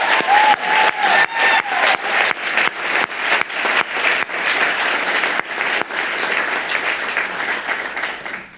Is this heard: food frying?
no